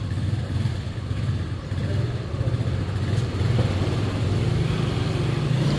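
An older Honda XR-based motorcycle engine idles nearby with a steady low, throbbing chug throughout, and no voices.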